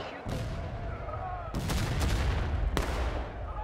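Gunfire in a river crossing battle, with a few sharp loud cracks spaced about a second apart over a steady rumble of battle noise, close by and without clear talk.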